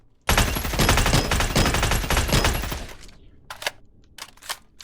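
Loud, sustained automatic bursts from an AUG rifle in the shooter game Badlanders, rapid fire for about three seconds, then a few short separate bursts and scattered shots.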